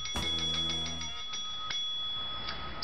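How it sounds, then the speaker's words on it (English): A handbell rung at a talk event gives one sharp strike with a long ringing tone, followed by a series of lighter, evenly spaced dings that fade away, with a later isolated ring. "let me first welcome you to the bell"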